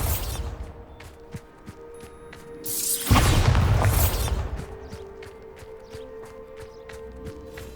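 A Bombarda spell explosion in Hogwarts Legacy erupts in one loud blast about three seconds in and rumbles out over the next second, amid sparse clicks, ticks and footsteps of the game environment.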